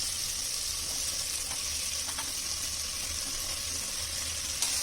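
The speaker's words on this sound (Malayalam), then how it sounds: "നമുക്ക് ബാക്കി സവാള കൂടി ചേർക്കാം." Onions frying in a pan for a Kerala-style beef curry, giving a steady, quiet hiss and sizzle close by with a few faint clinks, no talking.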